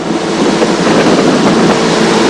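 Loud, continuous roar of churning waves from the Bono tidal bore on a river at Teluk Meranti, Pelalawan, Riau, a dense rushing wash with wind buffeting the microphone.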